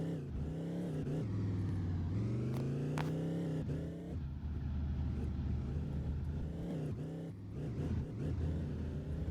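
Motorbike engine in the Chicken Gun video game, revving steadily and loudly with rising and falling pitch sweeps over about nine seconds, with game music underneath.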